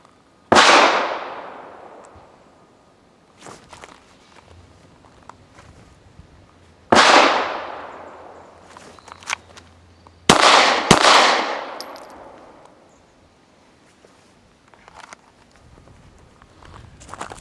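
Pistol shots at a shooting practice ring out loud and close, one isolated shot, then another, then two in quick succession, each with a sharp crack and a long decaying echo, with faint footsteps and shuffling between them.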